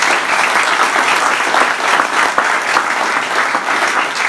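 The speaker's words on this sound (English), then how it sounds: "Give them applause, please." Audience at a mayor's State of the City address applauding a restaurant's hosts, a loud, close burst of dense clapping that continues steadily without voices.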